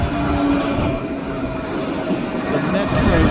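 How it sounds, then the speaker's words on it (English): A two-car westbound Kinki Sharyo light rail train pulls in at Washington and 44th Street: a loud, steady rumble of wheels on track with a faint metallic squeal, heard close by throughout. "It's a two-car westbound train"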